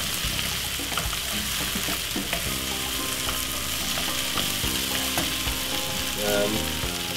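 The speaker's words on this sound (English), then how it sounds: "Give it a stir." Corned beef and sweet corn frying in a pan and being stirred, a steady close sizzle broken by scattered clinks and scrapes of the utensil, with no talking.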